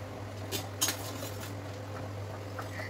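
Potato paneer curry with capsicum being stirred in a pan, giving a few light metallic clinks and scrapes of a spoon over a steady low kitchen hum.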